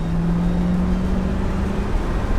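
A 1992 Pontiac Firebird Formula V8 of about 200 horsepower pulls away on the road, giving a steady, loud engine drone with a rising tone, heard alone.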